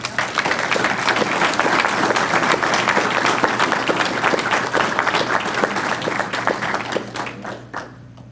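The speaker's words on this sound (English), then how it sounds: "a big round of applause for all of them." Roomful of people at a county Board of Commissioners meeting clapping, a dense sustained round of applause that tapers off over the last second.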